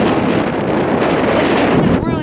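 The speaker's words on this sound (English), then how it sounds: "Guys, it's crazy windy out here" Strong wind buffets the microphone outdoors on a freezing January day, a continuous loud roar of gusts throughout with no clear speech.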